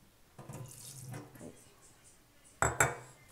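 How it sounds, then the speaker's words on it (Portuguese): Water swirls and splashes in a kitchen container as it is mixed, a soft sloshing stretch followed by two sharper clinks and splashes near the end. "Vou misturar aqui a água."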